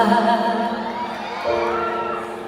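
Shouts and cheers come from an audience at a live Valentine's concert, a loud sustained crowd roar with a prominent voice calling out above it.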